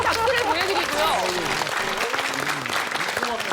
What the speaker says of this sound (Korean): 자, 이상 박수를 보내드리고요.